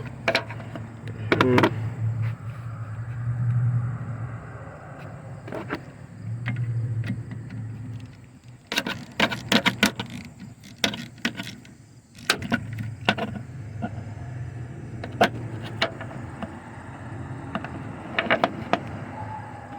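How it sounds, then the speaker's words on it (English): Bursts of metallic clicking and clattering come from a wrench removing 13 mm bolts on a Chevy Suburban, arriving in short irregular clusters over a low background hum with quieter gaps between them. "So let's take these bolts off."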